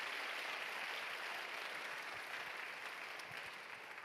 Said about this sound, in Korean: 목사님께 박수 드리겠습니다